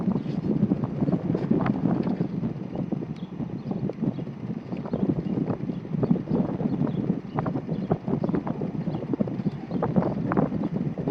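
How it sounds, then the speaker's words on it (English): Wind buffets a microphone outdoors during a 2014 Honda CR-V oil change, a steady rough gusting roar with choppy low-frequency bursts throughout. "It's very windy out today,"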